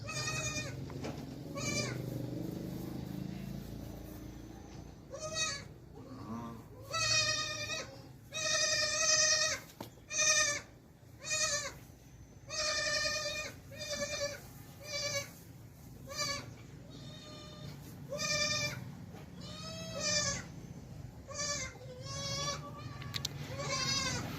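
Goats bleat at a goat farm in Pakistan where the animals are milked, with many overlapping, quavering calls from several goats coming in repeated bursts over steady farm background noise.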